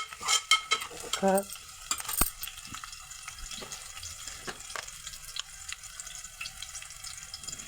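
Goat head curry with turmeric gets stirred in a pan, a spoon scraping and clinking against the metal amid soft sizzling and wet, squelching mixing sounds, close and moderately quiet.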